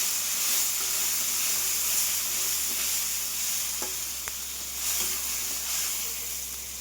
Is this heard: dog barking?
no